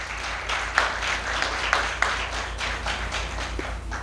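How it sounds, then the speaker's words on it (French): Rhythmic clapping from a small group, with regular beats and a few sharper claps standing out, heard over a steady low hum during an online entrepreneurship talk. "Allez, applaudissements"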